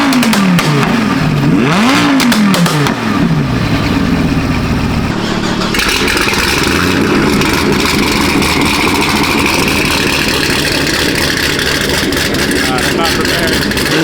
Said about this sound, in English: We gotta get some revs from the R8